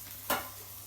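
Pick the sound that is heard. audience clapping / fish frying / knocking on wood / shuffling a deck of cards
fish frying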